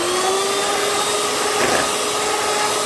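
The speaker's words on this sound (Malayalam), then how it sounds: "ഇപ്പോൾ ക്രീം ബീറ്റ് ചെയ്യാം." An electric hand beater whips chilled cream at low speed in a chilled bowl, giving a loud, close, continuous motor whir with a steady tone and no talking.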